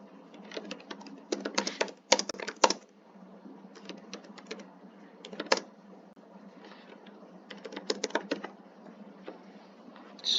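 Irregular bursts of keyboard typing on a computer, clicking keystrokes coming in quick clusters separated by short pauses, fairly close and moderately quiet, with no talking.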